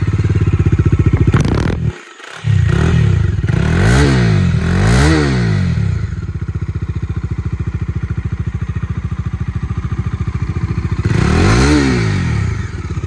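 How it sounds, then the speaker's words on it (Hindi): A Bajaj Dominar 250 motorcycle idles with a steady, throbbing exhaust thump, revved sharply several times in rising-and-falling blips after a brief cut, close and loud with no talking. "अभी हमने डोमिनार की एग्जॉस्ट नोट तो सुन ली है"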